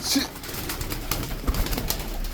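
Turkish tumbler pigeons coo in low, throaty murmurs against a steady background hum, the calls soft and close with no voices over them.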